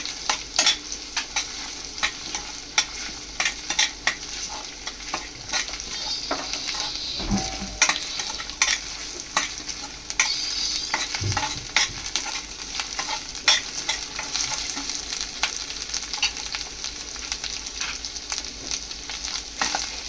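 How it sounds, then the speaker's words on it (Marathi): Curry leaves and ginger-garlic paste sauté in a pan over low heat, a constant close sizzle punctuated by frequent clicking stirs and scrapes of a spoon, loud and unbroken by talk. "कढीपत्ता टाकूया पण आणि आलं लसूण पेस्ट चांगली परतून घ्यायची"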